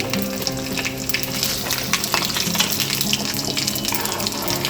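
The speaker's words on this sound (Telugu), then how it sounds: "ఇప్పుడు మనం ఎల్లుల్లిపాయలు చితక్కొట్టుకొని వేసుకోవాలి. ఇవి 1-2 నిమిషాలు ఇలా వేయించుకుని" Crushed garlic frying in a pan for Telugu moong dal charu, a steady close crackling sizzle with bright spitting pops running throughout, no voices.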